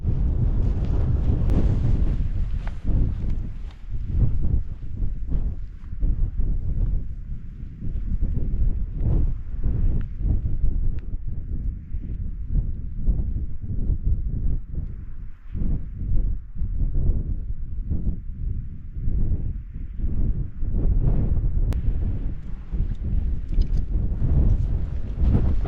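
Strong gusty wind buffets the microphone continuously on an exposed Scottish mountain ridge, a loud, rumbling roar that rises and falls without a break.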